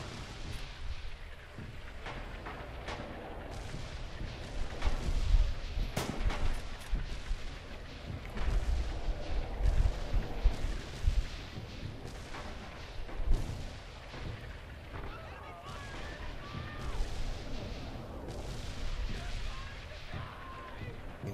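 Artillery fire in the World War II shooter Red Orchestra 2, heavy booms and rumbling blasts rolling throughout, with scattered gunfire and someone talking over the barrage.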